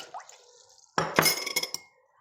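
Flower fertilizer solution is poured into water and stirred, with a brief splash followed by a few clinking, sloshing stirs against a glass container, close and fairly loud, then quiet.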